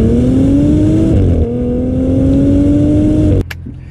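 A 2024 Maserati Ghibli Modena Ultima engine drones loudly and steadily from inside the car on a test drive. Its pitch rises slightly, dips, then climbs again before the sound cuts to a quieter rumble near the end.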